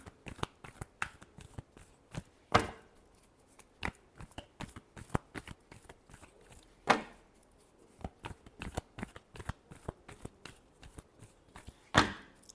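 Tarot cards are shuffled by hand in short, soft riffles and taps, a few sharper snaps standing out, close and quiet with gaps between, no one speaking.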